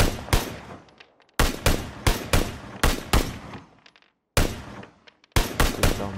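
Bursts of automatic gunfire in PUBG on PS4 rattle in sharp, loud clusters of rapid shots, with brief silences between volleys and each burst fading quickly into a short echo tail.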